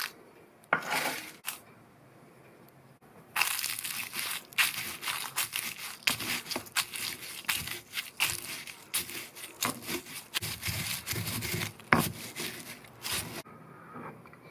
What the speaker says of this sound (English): I'm going to get them into my mortar and pestle.